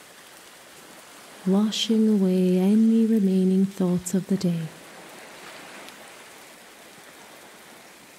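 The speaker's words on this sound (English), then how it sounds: "The sound of the rain mingling with the ocean waves creates a symphony of nature" Rain falls steadily on a shoreline, a constant soft hiss beneath a calm narrating voice that speaks for a few seconds before the rain carries on alone.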